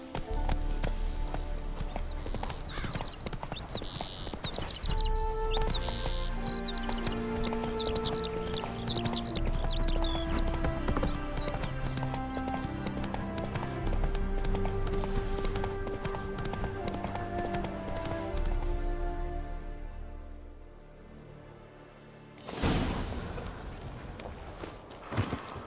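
Hooves of the horse Roach clip-clopping at a gallop in The Witcher 3 game, a steady rapid beat under dense orchestral music, fading near the end before a louder burst returns.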